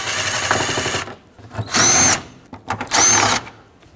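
A cordless power tool runs bolts down into a 2007-2009 Saturn Aura A/C condenser in three short whirring bursts with pauses between them, close and loud, with no talking.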